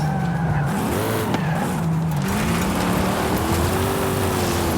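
Car driving hard in Forza Horizon 5, engine revving up and down with pitch sweeps as it shifts, under continuous tire squeal and skidding from start to finish, loud and close.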